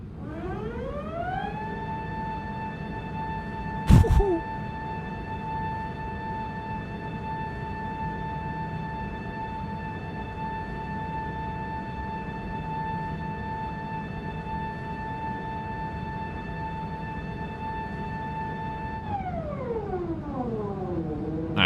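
Aircraft flaps moving in Microsoft Flight Simulator: an electric whine rises in pitch, holds a steady tone for many seconds, then slides back down, with one sharp click early on.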